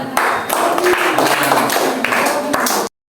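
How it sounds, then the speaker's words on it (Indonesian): Brief scattered clapping from a small group of students in a classroom, sharp hand claps overlapping for a few seconds before cutting to silence. "Tepuk tangan."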